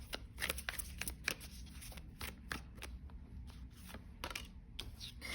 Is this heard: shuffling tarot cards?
yes